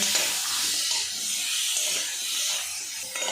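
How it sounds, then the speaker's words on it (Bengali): Spiced raw green tomatoes frying in a pan, a soft continuous sizzle and hiss of steam with faint stirring, fairly quiet and close, no voices. "এবার এর মধ্যে মশলা মেখে রাখা টমেটো দিয়ে দেব। বেশ কিছুক্ষণ এটা কষিয়ে নেব।"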